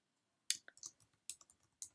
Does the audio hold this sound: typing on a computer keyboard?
yes